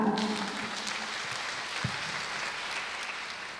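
An audience at a World Education Day celebration in Kara applauds in a steady, dense burst of clapping that holds evenly across the moment, with no voices over it.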